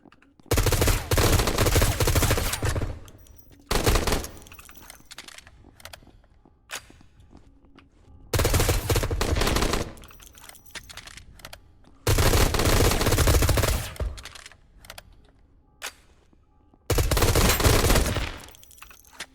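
Video game gunfire rips out in four loud bursts of rapid automatic fire, separated by short lulls with faint footsteps and scattered shots.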